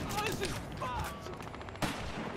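Gunfire in Battlefield Hardline arrives as a few faint, short bursts of shots in the background of a quiet in-game scene, with no clear voices over it.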